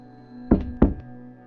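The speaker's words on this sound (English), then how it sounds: "I knocked twice." Two firm knocks on a door, close and distinct, spaced about a third of a second apart against a quiet background hum.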